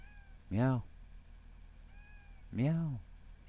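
Two drawn-out meows, each rising and then falling in pitch, come about two seconds apart over a low background hum; a human voice may be imitating a cat here, and the picture cannot settle whether it is a real cat.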